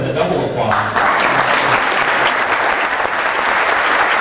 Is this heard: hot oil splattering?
no